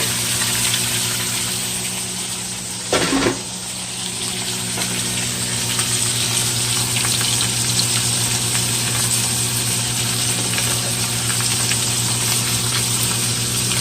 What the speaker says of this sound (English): So now I'm going to brown them on each side.